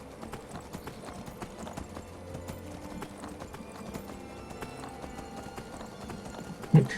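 Horse hooves clip-clop steadily in the video game Skyrim as a mount heads up a dirt mountain path, a continuous rhythmic patter of moderate loudness with a brief louder knock near the end.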